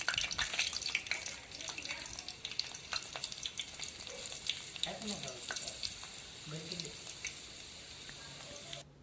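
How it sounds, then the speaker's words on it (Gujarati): Garlic sizzles in hot oil in a home kitchen, a soft steady crackle and hiss with scattered pops, faint and close with no one talking. "પાણીમાં ધોઈને તેલમાં પહેલાં નાખવાનું છે લસણ"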